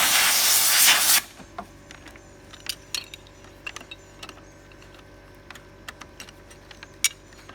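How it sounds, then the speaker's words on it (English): Compressed air blasting through a chainsaw air filter on a 35-year-old saw: a loud, steady hiss for just over a second, then it cuts off, leaving quiet room tone with faint scattered clicks and taps. "Blow off the filter from the inside out."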